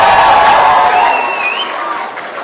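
A lively graduation ceremony crowd at Liverpool University claps and cheers in a hall, loud at first and then tapering off over a couple of seconds.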